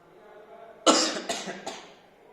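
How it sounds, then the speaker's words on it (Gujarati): Person coughing after smelling gas from heated copper sulphate: one sharp cough followed by two smaller coughs in quick succession, close and fairly loud over a quiet room. "મને ઉધરસ આવવા લાગી તરત જ"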